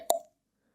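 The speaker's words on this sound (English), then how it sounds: "lovely cork pop on that" A natural cork pulled from a bottle of Patron Saint 1888 whisky gives a single short, hollow pop, crisp and close, followed by silence.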